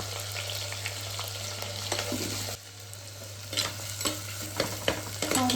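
Two handfuls of chopped onion frying in hot oil with cinnamon and cloves for a South Indian mutton curry, a steady loud sizzle with scraping stirs, a brief dip midway, then renewed crackling.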